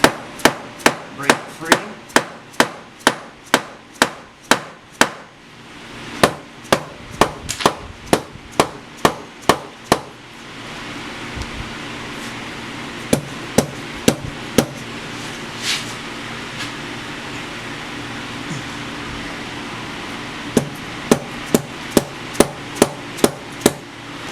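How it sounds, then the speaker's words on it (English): A dead blow hammer taps repeatedly on the clutch cover of a 2003 Kawasaki KLX 110 dirt bike, sharp close knocks in quick runs of strikes with a few pauses between, loud and alone. "I got a dead blow. Just kind of beat on it a little bit here and there."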